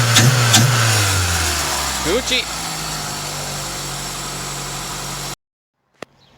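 A 2001 Toyota Celica GTS fitted with an Injen short ram intake revs loudly up close, its engine rising and falling before the car shuts off into silence, someone speaking briefly over it.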